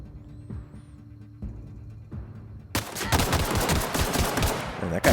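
An enemy's gunfire in The Outer Worlds erupts after a few quiet seconds as a rapid, loud burst of shots that keeps hammering to the end.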